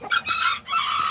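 An Azteca chicken, one of a flock of Kikiriki roosters and hens, gives a short, loud, close-up crowing call in two or three strained bursts.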